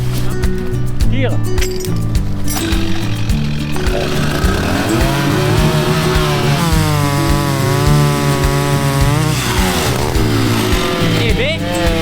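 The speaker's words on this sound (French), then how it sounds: "là j'ai pris l'autre tronçonneuse. La mienne ne coupe pas." A chainsaw runs continuously while cutting wood on a farm, its engine whining and bogging in pitch as it bites into the log, loud and close with a person's voice heard at times.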